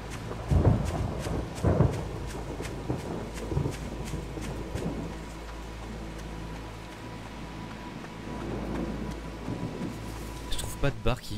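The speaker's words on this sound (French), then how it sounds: "J'adore le bruit de l'orage" Thunderstorm with rain in the video game Pineview Drive, where rain hisses steadily behind several sharp thunder cracks and rumbles. People talk over parts of it.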